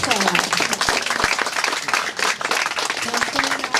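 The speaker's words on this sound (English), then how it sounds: "Go ahead and clap." Outdoor crowd clapping at a Boys & Girls Club ribbon cutting ceremony, a lively round of applause with voices talking over it and a few sharp, distinct claps close by.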